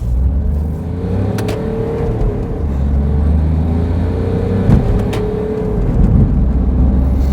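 A Smart diesel car with an automatic gearbox accelerates gently, its steady low engine drone rising and easing through gear changes, heard close from inside the cabin with no talk.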